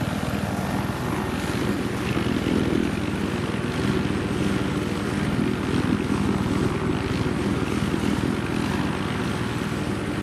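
A helicopter in Battlefield Hardline flies with a continuous loud rotor and engine drone, steady and close throughout, with no speech.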